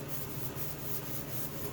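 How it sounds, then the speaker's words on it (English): Wet sanding done with a paintbrush makes a steady, close rubbing and scrubbing sound that holds even for a couple of seconds, with no talk. "Wet sanding with the paintbrush."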